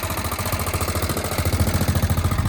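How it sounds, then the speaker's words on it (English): Gas V-twin engine of a Cub Cadet Challenger 750 side-by-side running steadily, a close, throbbing idle with a rapid rhythmic pulse that firms up slightly toward the end. "Gas engine. Looks like a V-twin under there."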